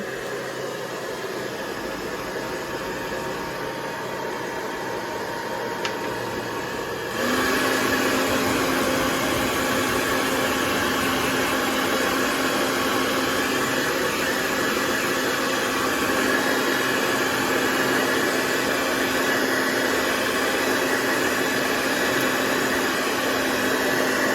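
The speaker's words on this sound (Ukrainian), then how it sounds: "Показую, як працює фен при першій та другій швидкості." A Gemei GM-1766 2600W hair dryer blowing with a steady whoosh, then stepping up to a louder, higher-pitched second speed and running continuously at the stronger speed.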